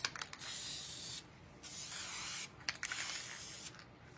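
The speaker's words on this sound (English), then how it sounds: "I sprayed this way first. And you're gonna do light coats." Spray paint can hissing out light coats onto a glass candy dish, three long steady bursts each about a second long with short pauses and faint clicks between, fairly close and alone.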